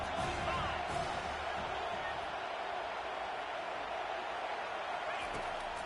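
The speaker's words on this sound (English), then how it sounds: "3rd down and the crowd really getting into it." Crowd noise in the NCAA 25 college football video game during a conference championship, a steady, loud roar of stadium cheering that holds throughout without letup.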